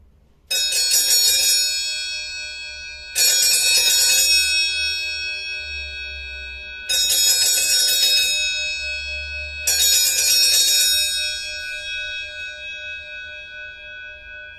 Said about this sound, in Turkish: bir adet geliştirilmiş Vatikan çanımızın ses stabilini sizlerle paylaşmak istiyorum